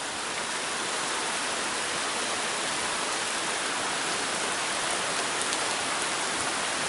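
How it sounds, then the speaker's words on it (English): Steady, dense rain pouring down, a continuous hiss with no breaks and no voices. "Yay, it's raining."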